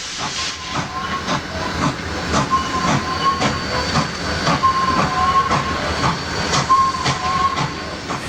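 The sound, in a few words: Illinois Central northbound train pulling slowly past a siding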